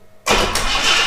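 A 1976 US-market Ford Capri Ghia engine cranks over after a short silence, its starter churning fast and steadily up close, nearly a second of continuous mechanical whirring with no voices.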